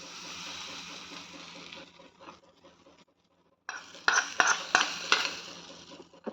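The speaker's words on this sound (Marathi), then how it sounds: "आता याला मी मिक्स करून घेतो." A spoon scraping and clinking in a pan of Indian food after a tadka with asafoetida is poured in, a steady hiss of frying followed by a short pause and several louder metallic knocks.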